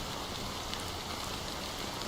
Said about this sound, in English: How long has this rain been going on for?